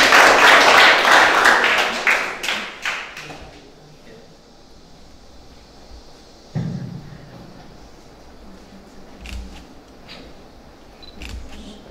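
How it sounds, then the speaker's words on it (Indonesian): Crowd applause at a Catholic Eucharist celebration for Catholic youth, loud and dense at first, then tapering off within about three seconds, followed by scattered claps and a few voices. "Tepuk tangan"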